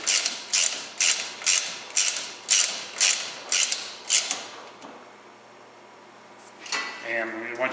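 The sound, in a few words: wrench ratcheting while tightening cargo rack bolts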